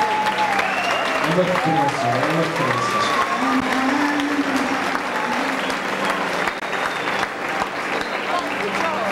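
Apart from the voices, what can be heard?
audience applause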